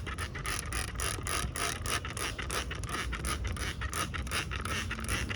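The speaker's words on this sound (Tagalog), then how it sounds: "Spray na natin sa mga plants like this one." A handheld sprayer mists copper fungicide onto garden plants to guard against rust fungus, a steady close hiss with rapid rhythmic pumping clicks running the whole time, no talk.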